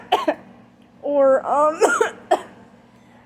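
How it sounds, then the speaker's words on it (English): A person coughs while cooking pasta in a kitchen: a few short throaty coughs and a voiced clearing burst, close and fairly loud, with a brief spoken word between them. "I'm not coughing towards the food, by the way"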